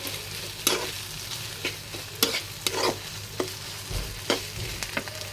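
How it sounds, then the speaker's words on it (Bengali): Greens for a mash, potato and jackfruit seeds frying in a pan, with a steady close sizzle broken by repeated sharp scraping stirs of a spatula against the metal, no voices. "এখন সুন্দর করে ভাজা ভাজা করে নেব।"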